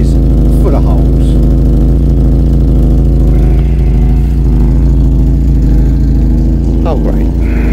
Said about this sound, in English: the exhaust back box was blowing quite badly